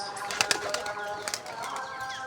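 Two pigeons bursting out of a home loft, wings flapping in quick close flurries of soft claps around a steady background hum, with a few brief louder beats near the start.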